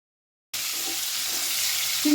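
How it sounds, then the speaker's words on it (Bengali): Small shrimp with a little turmeric and salt hit hot oil after a brief silence, setting off a sudden loud sizzle that stays steady and close until the end. "ছোট চিংড়ি মাছ সামান্য একটু হলুদ আর একটু লবণ দিয়ে অল্প একটু ভেজে নেব"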